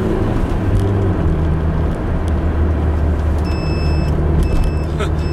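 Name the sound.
whiny old gearbox of a Nissan Sunny car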